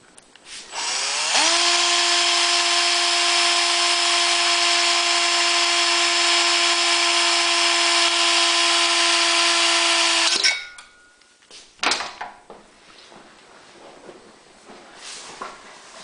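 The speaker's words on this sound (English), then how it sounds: "I'm going to take a drill with a 1/8 drill bit, and I'm going to drill a hole." A power drill fitted with a 1/8 bit spins up and whines at steady high speed for about nine seconds, boring a hole. It winds down sharply, followed by a brief burst and light handling clatter.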